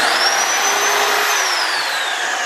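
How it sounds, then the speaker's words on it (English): A reciprocating saw cuts a hole in a wall, giving a loud, steady whine that rises and falls slightly in pitch across a couple of seconds of continuous running, with no talk over it. "That means it's time for my favorite tool, the sawzall."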